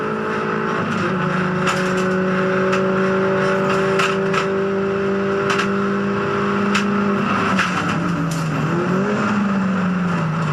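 A Mini Challenge race car engine drones steadily, then its pitch dips and rises as it is blipped through downshifts under braking, with sharp crackles along the way.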